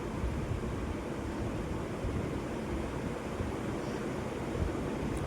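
Water with mutton pieces boils in a pot, a dense steady bubbling hiss that stays even and close for a few seconds with no talking.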